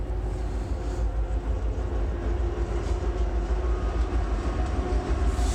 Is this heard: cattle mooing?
no